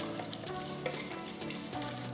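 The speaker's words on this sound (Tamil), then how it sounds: "கடுகு பொரிய ஆரம்பிச்சிருச்சு." Mustard seeds, cumin and lentils sizzle and crackle in hot oil in a pan, a close, continuous fry with small pops and no talking.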